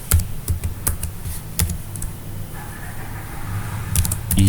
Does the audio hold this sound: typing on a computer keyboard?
yes